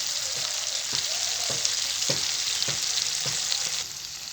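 Ground onion, garlic, ginger and cumin masala fries in a pan, a steady sizzle running throughout with regular soft stirring scrapes roughly every half second, no talking.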